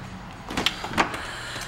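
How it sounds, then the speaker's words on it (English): The power tailgate on a black 2008 Audi Q7 Quattro opens with a soft, steady motor whir and a few light mechanical clicks, heard up close at a fairly low level. "So again, you can open the tailgate by here."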